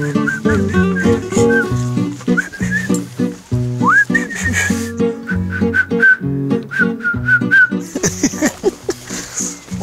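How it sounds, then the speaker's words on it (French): People whistle a melody that rises and falls, off the beat, over a bouncy, rhythmic musical accompaniment, loud and close, with a few clucking noises. "On siffle à contre-temps."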